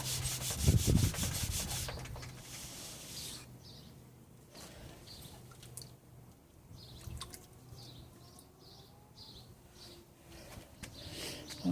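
Synthetic sharpening stones lapped flat on 320 to 400 grit sandpaper, a steady gritty rubbing and scraping that rises and falls in strokes, close and moderately loud, with a few faint knocks and no talk.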